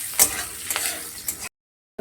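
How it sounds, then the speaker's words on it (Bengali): Chopped onions sizzle and crackle in hot oil, stirred with a few sharp scraping bursts, before the sound cuts out into a brief silence and then returns. "পেঁয়াজগুলোকে আমি একটু লাল লাল করে ভেজে দেবো"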